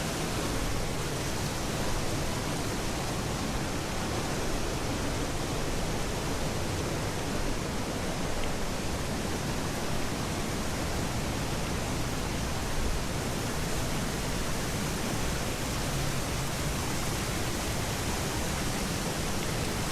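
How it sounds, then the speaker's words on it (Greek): Water rushes deep in a rocky gorge as a dense, loud and unbroken roar that holds steady throughout. "Φτάνοντας όλο και πιο βαθιά, ο ήχος του νερού γίνεται πιο έντονος."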